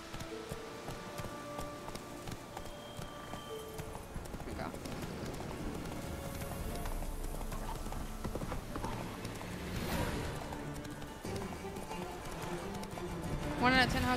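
Hooves of the horse Roach clip-clop steadily in The Witcher 3: Wild Hunt, a moderate rhythmic trot mixed under game music and ambient noise, with people talking over it.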